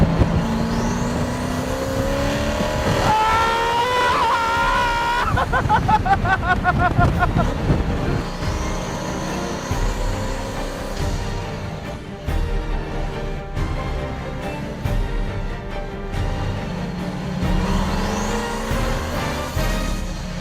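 A Hennessey Venom GT supercar's engine roars and revs hard, pitch climbing through gear changes as it accelerates fast, loud and close, with brief shifts between bursts.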